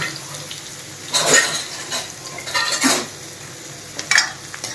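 Ladle stirring coarsely chopped onion in hot oil for a chole tadka, with a few short scraping bursts against the pot over a steady low sizzle.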